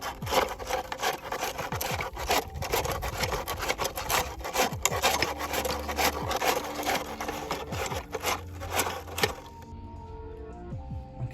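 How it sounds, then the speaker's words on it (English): Work goes on replacing ball joints during an Isuzu CV boot and ball joint job, with a steady run of close scraping, grinding and clicking metal sounds that stops abruptly near the end. "I install the new ball joints."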